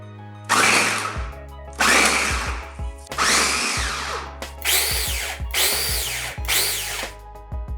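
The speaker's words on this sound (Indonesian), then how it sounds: "ini akan saya cacah dengan menggunakan chopper andalan dari Mito Chiba" A Mito Chiba electric chopper minces pieces of meat in six loud, close motor bursts, each a whirring buzz lasting about a second, separated by brief pauses.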